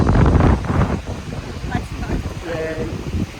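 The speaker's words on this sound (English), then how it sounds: "It's gone incredibly windy now." Gusty wind on Jurmala Beach, Latvia, buffets the microphone in heavy low rumbling bursts, with a voice speaking briefly partway through.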